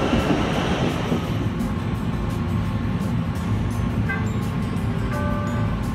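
Chicago train carriage rolling toward Midway, a steady, loud rumble of wheels and car noise throughout, with brief brake-like squeals near the end and no one speaking.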